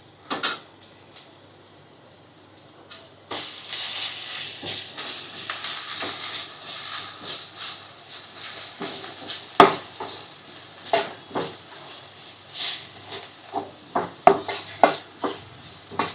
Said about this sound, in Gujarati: હવે આમાં આપણે આદુ લસણની પેસ્ટ છે ને એ સાતળી લેશું ભેગી.